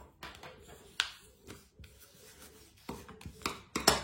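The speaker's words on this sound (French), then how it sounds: "Vous marquez bien les plis" Folds being pressed into origami paper for a Christmas tree, with intermittent soft rubbing and creasing strokes and a few sharper crinkles, close and quiet.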